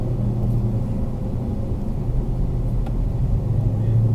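A car cruises along an Arizona freeway, a steady, loud low rumble of engine and road noise with a semi truck nearby, continuous and without speech.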